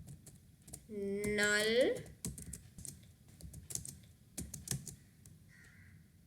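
Computer keyboard typing, a scatter of soft key clicks at close range, interrupted early by a brief tonal, cawing-like sound.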